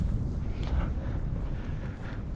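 Steady wind buffets the microphone outdoors in cold Iowa weather during shotgun deer season, with a low, rumbling roar that continues throughout, with no voices.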